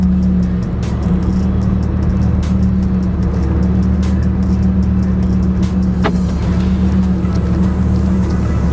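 A Lamborghini Huracan Performante cruises over snowy ground with a constant, loud low engine drone and a steady hum throughout, heard from the cabin without talk.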